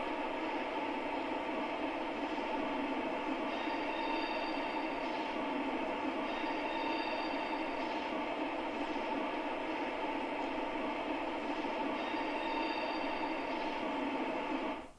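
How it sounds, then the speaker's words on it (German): Railway station ambience plays from the sound module of a Märklin V 320 gauge 1 model diesel locomotive: a steady, even wash of platform and train noise with faint high tonal squeals, continuous and unbroken for about fifteen seconds. "ein Umgebungsgeräusch mit typischen Bahnhofsgeräuschen"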